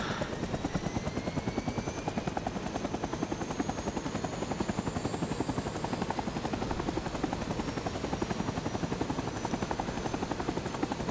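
A military helicopter in the video game Rising Storm 2 flies steadily with a loud, continuous rotor chop and engine whine, with a rising high tone partway through and no voices.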